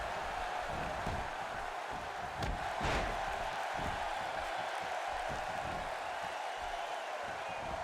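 An arena crowd in the WWE 2K16 video game murmurs and roars faintly and steadily during a triple threat match, a distant wash of noise with a brief swell of cheering near the middle.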